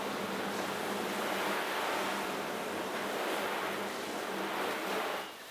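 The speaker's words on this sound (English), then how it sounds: "We'll put the full GPM blast of the orbit shower" An Orbit hose sprayer set to its shower pattern runs at full flow, giving a dense, steady hiss of spraying water that holds constant and then fades slightly at the end.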